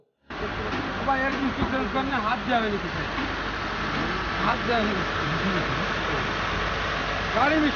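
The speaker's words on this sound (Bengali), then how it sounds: "ইঞ্জিন খুবই স্মুথলি চলছে" A car engine idles with a steady low hum, while a voice talks over it throughout.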